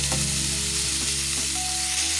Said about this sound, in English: What I'm going to do is break it up, and we're going to cook it